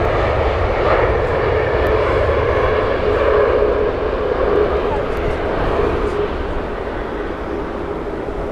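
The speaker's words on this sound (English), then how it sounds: "Another Air Canada 787 going out now" An Air Canada Boeing 787 departing from Heathrow, a loud sustained jet engine roar with a broad rumble and steady whine, heard from a distance and holding level throughout.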